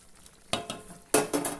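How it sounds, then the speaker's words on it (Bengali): A spoon stirs mutton biryani with potatoes in a pot after it has cooked covered: two distinct scraping, shuffling bursts of stirring, close and fairly loud, with quiet pauses between them and no talking. "আমি 15 মিনিট পরে ঢাকাটা খুলছি, দিয়ে একটু নাড়াচাড়া করে দেবো।"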